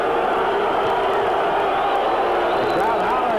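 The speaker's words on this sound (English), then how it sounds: "The crowd hollering for somebody to swing." A boxing crowd at the Azumah Nelson vs Mario Martinez fight hollers and roars continuously, a broad, steady arena din with rising shouts near the end, under commentary.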